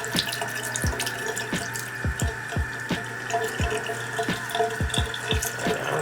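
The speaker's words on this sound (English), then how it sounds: "So first I'm going to wash the brush off." A paintbrush is rinsed under a running kitchen tap after glass etching with cream, water streaming steadily with repeated splashy dips and drips close by.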